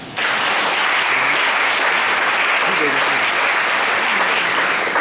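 A church congregation breaks into loud, sustained applause during a worship service, with clapping filling the room for the whole stretch and voices mixed in.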